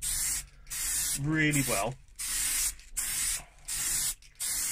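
Aerosol primer being sprayed onto a car's centre fascia, coming as several separate hissing bursts of a second or so, fairly close, with short pauses between them and a brief spoken phrase in the middle.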